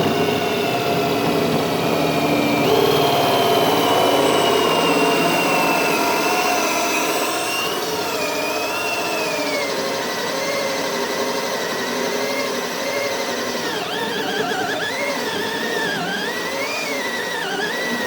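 A power drill fitted with a hole saw cuts into wood without a pilot bit, giving a steady, loud, continuous whine with shifting pitch for the full stretch.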